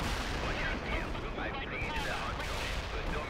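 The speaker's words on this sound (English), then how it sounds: "Shoot at them with our little machine guns." Machine gun fire and battle noise in the real-time strategy game World in Conflict form a dense, continuous roar of shots and blasts, with a voice talking over the din.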